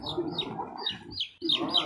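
Several Brahma chickens cluck and chirp softly nearby, with overlapping calls in an irregular, continuous chatter.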